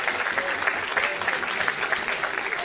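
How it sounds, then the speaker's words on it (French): Audience clapping at a lookalike show during a caravan festival in the Cévennes, France; a steady, moderately faint patter of many hands heard from a distance, with faint voices beneath. "Marie-Claire, Marie-Claire et Marie, on vous applaudit, les Carlinettes."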